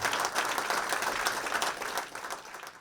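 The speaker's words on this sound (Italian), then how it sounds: "Ancora applausi, per favore" An audience at a rap performance applauds with sustained, dense clapping at a steady level throughout, with no voices rising above it.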